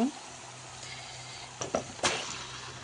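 Chicken pieces tipped into a pan of frying masala in a home kitchen, making a few soft thuds and a brief sizzle over a low hiss, with no talk.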